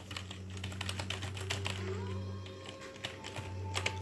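Fingers tap a computer keyboard while a game is tested on Samsung DeX, giving quick, irregular clicks over a steady low electrical hum.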